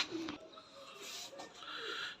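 A pure white Nil Dumba pigeon coos softly in a short, close, low burbling call, with faint background noise.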